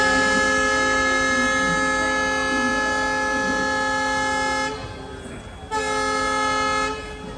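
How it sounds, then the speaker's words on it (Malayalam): A Poorna Express train departing Ernakulam station sounds a long, loud, steady horn blast with rich harmonics, which drops out briefly near the end before returning, over rumbling station noise. "കൃത്യസമയത്ത് തന്നെ നമ്മുടെ പൂർണ്ണ എക്സ്പ്രസ് അങ്ങനെ എറണാകുളത്ത് നിന്ന് എടുത്തിരിക്കുകയാണ്"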